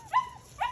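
A young puppy gives two short, high whimpering yips about half a second apart, close and fairly loud.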